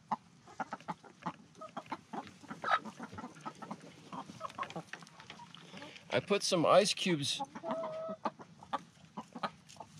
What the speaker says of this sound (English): The chickens are also starting to pant a little bit.